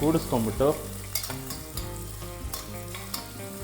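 Three green chilies frying in hot oil, a continuous sizzle with scraping stirs of a spoon across the pan, close and steady with no talking.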